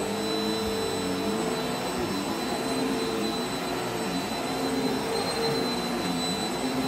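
A vacuum cleaner runs steadily over a carpet rug, a loud, constant motor whine and airy roar with a fixed high tone, droning on without pause.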